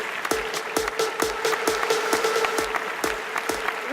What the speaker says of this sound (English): Big applause, guys.